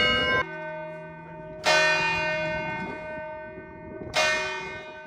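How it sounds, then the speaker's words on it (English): A massive cathedral bell in Cádiz rings from close beneath, three heavy strikes at uneven intervals, each a loud metallic clang that hums on in a long, shimmering decay until the next blow. "you are under an absolutely massive bell"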